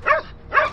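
Hungry, emaciated dogs tearing at the remains of an animal let out two short, loud barks in close succession, near and alone.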